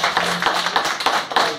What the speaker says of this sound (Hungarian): kérek mindenkit egy nagy tapsot Balikó Tamásnak,